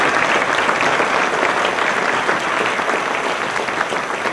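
A crowd at a Martin Luther King celebration applauds outstanding student artists, loud continuous clapping from many hands at close range with no voices over it.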